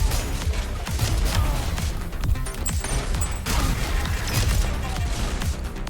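Grenade blast and heavy gunfire in the shooter game DEADLINK, a dense run of booms, crashes and rapid shots packed closely together, loud and chaotic, with no voices over them.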